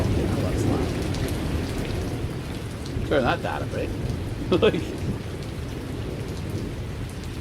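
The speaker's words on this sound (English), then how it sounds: "Second clap of thunder that shakes the traveller's rest to its very foundations" Thunderstorm rain hisses steadily throughout, with two short low rumbling bursts of thunder near the middle; a voice speaks briefly over the downpour.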